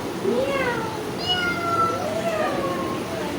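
Several children's voices imitate a cat's meow, overlapping, drawn-out rising and falling mews one after another against a noisy classroom.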